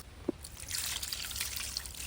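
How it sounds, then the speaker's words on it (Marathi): After a small tap, water is poured softly over crab pieces, a faint trickling splash running on quietly for a couple of seconds. "आता थोडंसं पाणी टाकून पेंडे नांगे आणि पाकळ्या हलक्या हाताने धुवून घेते"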